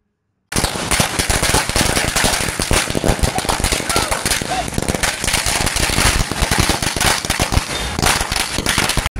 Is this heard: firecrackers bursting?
yes